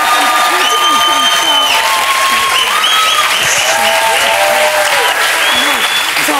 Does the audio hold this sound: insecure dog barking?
no